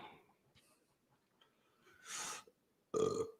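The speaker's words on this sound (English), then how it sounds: "Excuse me, I burped." Two short, breathy burps from a person stand out clearly against near silence, the second louder and more resonant than the first.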